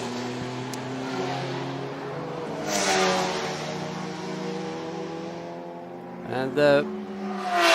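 Race cars, including Porsche Caymans, circulate a Riga circuit in a touring car championship race, with a sustained engine drone and a passing surge near the end, under a commentator's voice.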